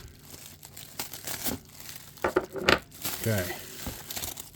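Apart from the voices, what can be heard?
unwrapping plastic packaging of a delivered parcel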